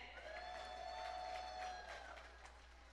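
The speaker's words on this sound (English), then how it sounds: "Clap. You guys can clap. Don't be shy." Faint, distant applause from an audience at a leadership gala in Washington DC, a soft continuous patter of many hands mixed with crowd voices under a steady low hum.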